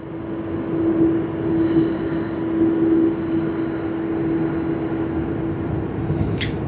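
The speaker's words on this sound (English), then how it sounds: "Whoa, look at the departure action. Another one, Malaysia Airlines A330-900." A Malaysia Airlines Airbus A330-900 departs Sydney Airport as a steady, loud jet engine roar with a droning tone, holding level throughout.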